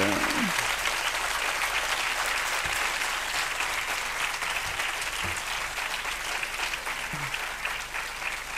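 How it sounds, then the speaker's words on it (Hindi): Audience applauding at a Hindi book launch, a thick sustained wash of many hands clapping, steady and even throughout, with a few faint voices briefly underneath. "आपकी तालियां इस पुस्तक को आशीर्वाद दे रही है।"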